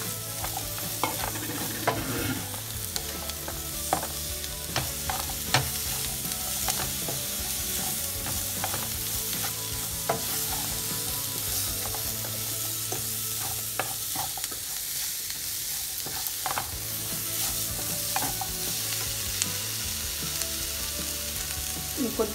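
Capsicum pieces frying in a pan for a curry, with a steady close sizzle and frequent clinks and scrapes of a spoon stirring throughout, no voices.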